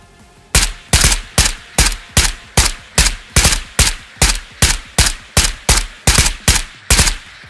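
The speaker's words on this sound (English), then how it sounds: "He's definitely shooting another team, right?" A steady series of about fifteen loud, evenly spaced gunshots rings out in the video game Ghosts of Tabor, each crack sharp and close with a short decaying tail, with no talking.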